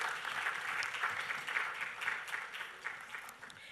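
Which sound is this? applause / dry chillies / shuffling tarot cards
applause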